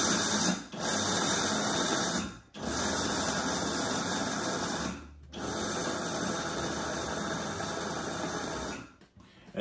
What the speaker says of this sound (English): the first thing I want to do is grind my nuts.